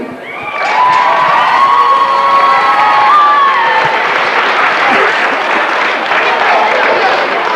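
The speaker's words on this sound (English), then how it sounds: "give a big round of applause to Darren" A crowd at an under-13 Gaelic games league final between Drung and Knockbride bursts into sustained loud applause and cheering. Children's shouts and whistles mix in, and the noise holds steady throughout.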